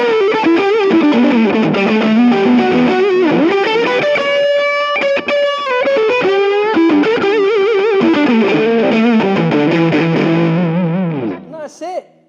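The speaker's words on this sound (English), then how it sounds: "that's the one with the reverb and delay" A Martin acoustic guitar played through a pedalboard with a Boogie tube drive, reverb and delay, giving loud, sustained distorted chords and a held melodic line with long echoing tails that fade out at the end.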